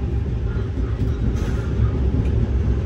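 The Bangalore to Chennai Double Decker Express runs past Whitefield as it picks up speed, a loud steady rumble of wheels and carriage with no pauses.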